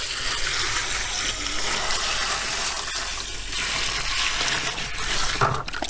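Sugar solution poured into a batch of homemade dandelion wine makes a steady, fairly loud gushing pour of liquid that continues without a break, with no voices.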